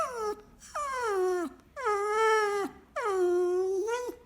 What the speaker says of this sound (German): Der Hund winselt.